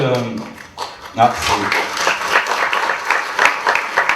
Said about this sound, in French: c'est les jeunes qui applaudissent